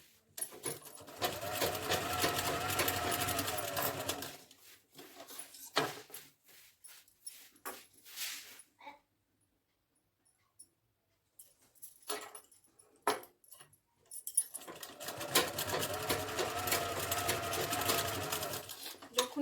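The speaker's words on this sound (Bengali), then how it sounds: "জাস্ট মেশিনে সেলাই করবো" An electric sewing machine stitches a dress in two loud sustained bursts at the start and end, separated by quiet handling with scattered small clicks and knocks.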